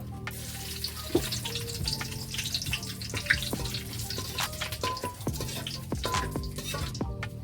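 Garlic, bay leaf and dried red chillies sizzle and crackle in hot oil while cooking mutton curry, a continuous close frying hiss broken by sharp pops and clatters of stirring, with no talking.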